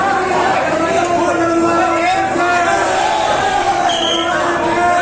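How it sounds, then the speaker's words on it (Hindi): Huge crowd of devotees packed into the sanctum of the Gola Gokarnath Shiva temple on a Sawan Monday, a dense, loud, unbroken roar of voices and chanting filling the space. "टिड्डी दल की तरह भक्तों की भीड़ उभर रही है।"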